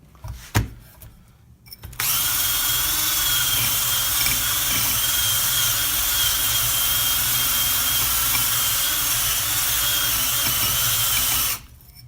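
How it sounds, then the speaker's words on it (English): Wire wheel scouring crud from inside a lead melting pot, a steady loud grinding whir running continuously for about ten seconds after a few short clicks, close by. "I'm just going to run a wire wheel around the inside of it"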